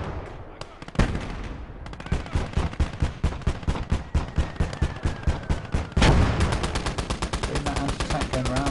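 Rapid machine-gun bursts and heavy thuds of mortar and artillery fire in the Close Combat war game, a loud, nearly continuous stream of shots with a big impact around six seconds.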